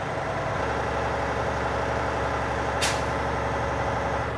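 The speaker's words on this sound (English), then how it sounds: "make sure that my air pressure is built up and that my pop-off valve operates properly" A truck's air pressure pop-off valve releases at 125 PSI, a sharp, brief hiss of air bursting out once over the steady low rumble of an idling heavy engine.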